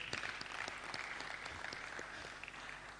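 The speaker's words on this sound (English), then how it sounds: "Let's give him a round of applause." Audience applause at a lecture, a steady wash of many hands clapping at moderate volume, continuous for about three seconds.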